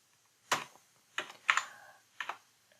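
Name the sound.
typing on a computer keyboard while writing a C# unit test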